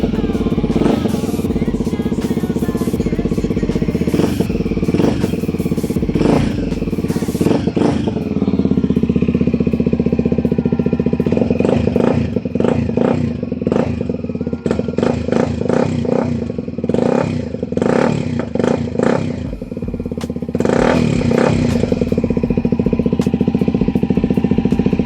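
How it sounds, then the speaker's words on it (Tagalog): A modified 2015 Kawasaki Ninja 250SL motorcycle with an aftermarket muffler, its loud, raspy engine running close up through repeated sharp throttle blips and revs over a steady rumbling idle. "Ang problema din kasi lang sa muffler na to, lakas ng tunog niya sa idle"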